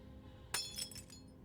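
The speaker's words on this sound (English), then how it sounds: "He smashes the YiiK soundtrack." A vinyl LP of the YiiK soundtrack is smashed in the video game YiiK, giving one quiet, sharp shattering crash followed by a brief scatter of clinking fragments, with nothing else around it.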